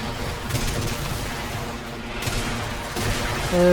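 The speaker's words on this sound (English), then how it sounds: "Now look, I have 8 bullets that I'm going to be shooting." Rapid gunfire from a Uriel build in Warframe: a steady, dense stream of shots firing in quick succession, loud and close, with game effects ringing out near the end.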